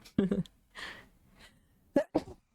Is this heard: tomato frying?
no